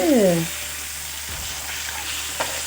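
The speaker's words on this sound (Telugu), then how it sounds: "లైట్గా ఇలాగా ఫ్రై చేసుకుంటే సూపర్గా ఉంటుందండి" Fish pieces frying in a pan over a lowered flame, a steady soft sizzle running throughout with a brief tonal squeak at the start and a small clink near the end.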